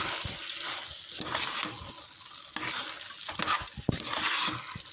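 Chicken sukka stirred and frying in a pan, with steady sizzling and repeated scraping stir strokes through the mix, close and fairly loud with no talk.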